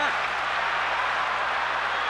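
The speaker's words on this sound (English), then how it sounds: "the crowd stands and they're excited here in the Nassau Coliseum today" Hockey crowd at Nassau Coliseum during Game 6 of the 1980 Stanley Cup Final between the Flyers and the Islanders: a dense, continuous roar of cheering and applause, with a broadcast commentator's voice over it.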